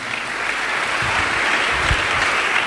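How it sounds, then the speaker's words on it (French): Church congregation applauding after a scripture reading, a dense, steady wash of many clapping hands filling the room, sustained throughout without talk. "Acclamons la parole du Seigneur."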